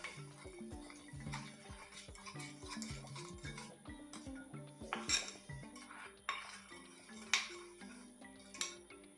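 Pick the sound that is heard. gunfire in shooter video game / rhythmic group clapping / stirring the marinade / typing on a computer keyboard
stirring the marinade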